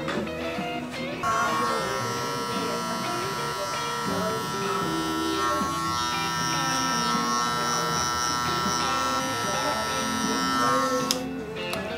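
Electric hair clippers buzz steadily and close up as a barber works clipper over comb during a burst fade with a mullet, a continuous droning hum that stays level for the whole stretch.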